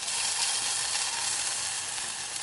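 Garlic hitting a hot frying pan for tomato egg drop noodle soup, a loud, steady, close sizzle that holds evenly throughout with no voices.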